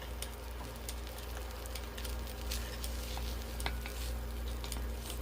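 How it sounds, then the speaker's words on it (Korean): Leftover rice stir-fried on a grill pan after frozen pork belly from Costco, with well-ripened sour kimchi: a steady, close sizzle with light scraping and stirring throughout, no talk. "고기 다 먹으면 밥 볶는 건 국룰이죠."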